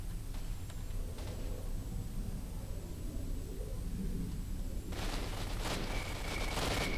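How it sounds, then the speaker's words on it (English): Bursts of rapid gunfire crackle in the video game S.T.A.L.K.E.R.: Shadow of Chernobyl, a sharp volley breaking out near the end over a steady low rumble. "I can hear gunfire."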